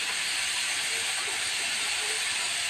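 Pork stir-fries with curry paste in a hot pan, giving off a steady, bright sizzling hiss that stays even and close throughout, with no talking.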